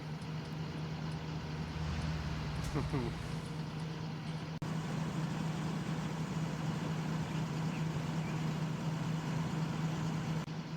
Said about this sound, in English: Oh, there's a tractor coming.